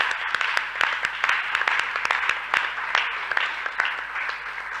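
Audience clapping at a school debate competition, a moderate round of individual claps with distinct sharp hits, fairly close and slightly thinning toward the end.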